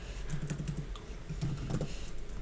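Rapid keystrokes on a computer keyboard while code is typed, two short bursts of quick, close taps over a low steady hum, with no voices.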